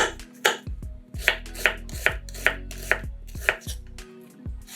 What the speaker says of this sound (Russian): 1 луковицу нарезаем кубиками.